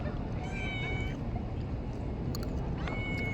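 A cat meows a few times, short tonal cries heard close over a steady background rumble, with no speech.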